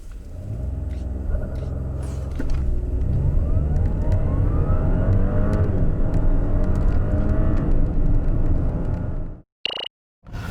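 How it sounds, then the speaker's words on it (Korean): An Audi A7 55 TFSI quattro launches hard from a standstill, its engine roaring loudly and steadily rising in pitch for about nine seconds before cutting off abruptly. "발진 가속 성능이 얼마나 되는지 한번 확인을 해볼까요?"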